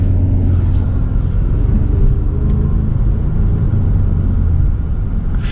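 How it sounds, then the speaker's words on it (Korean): Genesis G70 Shooting Brake with its 2.0 turbo engine and active sound generator switched on, giving a steady, loud interior engine drone and low rumble that holds even throughout, with no talking. "이게 사운드 제너레이터가 들어가 있네"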